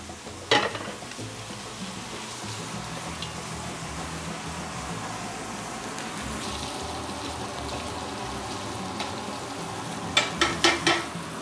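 Seasoned steak searing in a hot cast iron pan, a loud, continuous sizzle and crackle held close, with a thump as the meat goes in and a few sharp clatters near the end.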